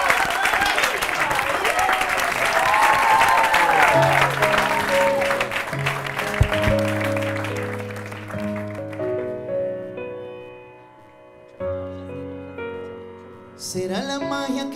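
Loud audience applause and cheering welcome a reggaeton singer onto a TV show stage, a dense clapping roar that fades after a few seconds as music with sustained tones takes over.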